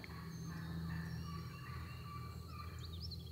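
A wild turkey gobbler gobbles in the South Alabama woods on opening day of the season, a distant, rattling burst near the end that rises over steady outdoor background ambience, with no voices.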